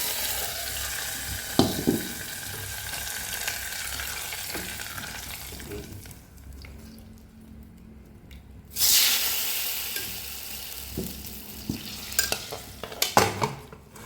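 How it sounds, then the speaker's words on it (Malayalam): Hot oil tempering sizzles and crackles loudly as it is poured into a pressure cooker of cucumber and jackfruit-seed curry, then settles into a steady fry with clinks of a spoon stirring. "ഇനി നമുക്ക് നേരെ ഈ വറവ് നമ്മുടെ കുക്കറിലോട്ട് ഒഴിക്കാം."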